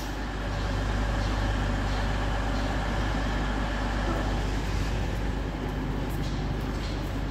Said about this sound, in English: Also coming in is a 222, also to be in the East Midlands trains livery again.